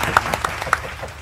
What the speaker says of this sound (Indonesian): Tepuk tangan untuk para petani.